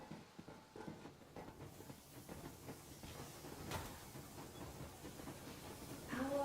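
The Yermak, a steam locomotive in Metro Exodus, rolls along with hissing steam, rhythmic clanks and rattles of its cars, and a rising rumble, with no one speaking.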